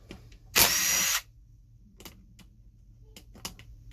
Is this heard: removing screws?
yes